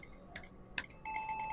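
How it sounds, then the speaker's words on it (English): A 5-play Double Double Bonus video poker machine at a casino gives two quick electronic blips, then a steady bright chime tone rings out, faint and close. "Dinging noises mean you win."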